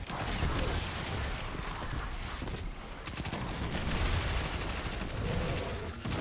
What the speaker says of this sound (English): This SMG is very fun to use.